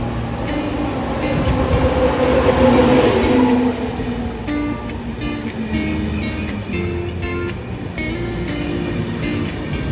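A train to Civitavecchia rumbles and hums arriving at a station platform with rising, steady mechanical noise and brief clanks, a roaring swell early on, then settling into a sustained drone.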